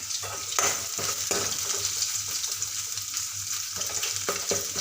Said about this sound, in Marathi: त्याला छान असं मस्त परतून घेणार आहे